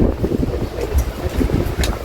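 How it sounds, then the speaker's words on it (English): Strong wind buffets the microphone in steady low rumbling gusts, with a constant roar and no voices. "it's an extremely windy day"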